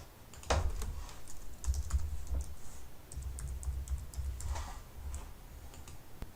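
Quick keystrokes tap on a computer keyboard in short bursts with brief pauses, quiet and close, while logging in to an account.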